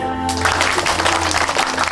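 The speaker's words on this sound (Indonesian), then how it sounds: "Tepuk tangan lagi." Corporate event audience bursting into applause, dense clapping that starts abruptly after a sustained tone and continues for under two seconds.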